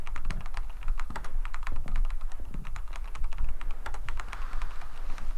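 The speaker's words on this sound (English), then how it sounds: "He's hardcore typing" Rapid typing on a computer keyboard, dense fast clicks and clacks in quick irregular bursts, close and crisp for about five seconds with no talking.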